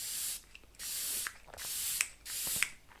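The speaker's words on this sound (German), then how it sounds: "Ihr könnt das auf ein Wattepad sprühen oder direkt in euer Gesicht." A facial toner made with lemon balm water is sprayed from a pump mist bottle in four short, bright hissing bursts with brief pauses between them, close and fairly loud.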